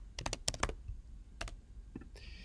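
Keystrokes on a computer keyboard while code is entered in a Rayshader workshop: quick close bursts of sharp clicks, a pause, then a few more taps, alone with no voices.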